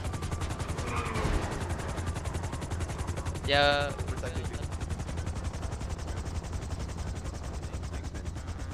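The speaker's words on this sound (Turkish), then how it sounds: "Ya Helikopter geldi." A dense, rapid chopping drone of a helicopter in GTA 5 fills the scene throughout, steady and fairly loud, with a brief whistling tone and a short spoken word.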